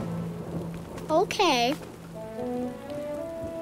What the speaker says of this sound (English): Hey, look! The rain is stopping.